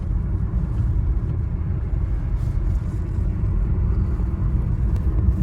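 A car driving along a mountain road beside the Pabbar river, heard from inside as a steady, loud low rumble of engine and tyres with no talking.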